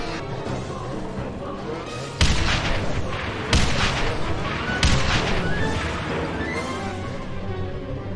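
Rocket launcher fire in the shooter game Contract J.A.C.K., three heavy booming blasts spaced a second or so apart, each with a broad crash and lingering tail over a steady background rumble.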